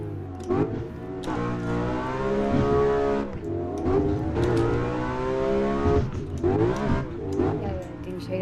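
A BMW E92 M3 engine in the game Assetto Corsa revs up and down repeatedly, its pitch climbing and dropping with gear shifts, while a voice talks over it.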